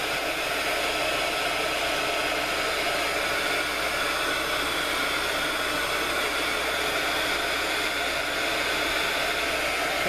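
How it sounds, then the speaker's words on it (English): A heat tool blows hot air to dry paint on a crafted art tag, a loud steady whooshing hiss that holds unchanged from start to finish. "I'm gonna come in again with my heat tube, put a little heat to it,"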